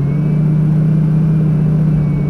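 A Lamborghini Gallardo engine under light throttle at Prestwold Hall gives a loud, steady, low drone with a firm hum, heard from close by throughout and with no speech.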